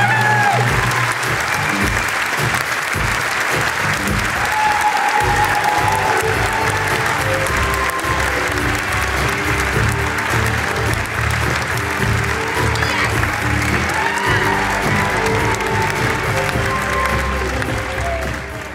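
Long, sustained audience applause at the IFTA awards ceremony, a dense wash of clapping that holds steady for nearly twenty seconds and fades slightly at the very end.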